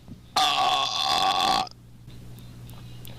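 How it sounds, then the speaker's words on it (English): A single long, loud human burp rumbles for over a second and then stops abruptly, leaving a quiet room hum. "Sorry for all the dumb burping."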